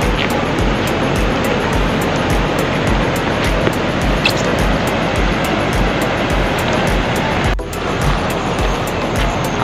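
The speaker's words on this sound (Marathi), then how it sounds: "प्रचितगडावरून येणारी नदी" A river flows down from Prachitgad fort, heard as a steady, loud broadband rush of water that continues unbroken with wind-like noise mixed in.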